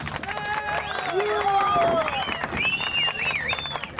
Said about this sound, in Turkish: bakalım inşallah herkese alkış alacağız